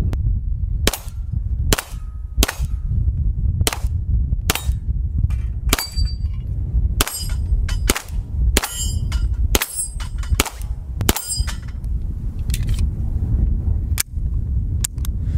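Beretta M93 9mm pistol firing at steel targets outdoors: a rapid series of loud sharp shots, some with metallic ringing pings from hit steel, in an irregular rhythm over constant wind-like rumble.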